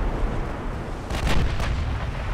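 A warship in the naval game UA: Dreadnoughts takes torpedo hits. A couple of muffled, rumbling explosions burst over a constant roar of battle noise, loud and continuous throughout.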